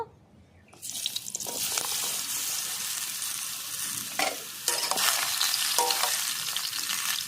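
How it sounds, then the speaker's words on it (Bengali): Pointed gourd pieces hit hot oil in a wok and burst into a loud, dense sizzle that holds steady for several seconds, with a few stirring knocks close by and no talk. "কড়াই বসিয়ে দিয়েছি তেলও গরম হয়ে গেছে পটলগুলো আমি আগে একটু হালকা করে ভেজে নেব"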